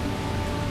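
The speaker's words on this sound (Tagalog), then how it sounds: "Grabe, super lakas na ng ulan." Heavy rain pours steadily outside a roadside restaurant in the Bukidnon highlands, a loud, dense and unbroken roar of drops with no voices over it.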